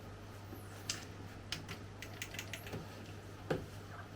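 A faulty CD player tries to read a disc, giving faint, irregular clicks and small mechanical ticks scattered over a low, steady hum.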